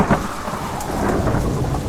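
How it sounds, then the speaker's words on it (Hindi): Torrential rain pours steadily with thunder rumbling through it, a dense, loud wash of falling water and low rolling booms with no voices. "बाहर मूसलाधार बारिश हो रही है, बिजली कड़क रही है।"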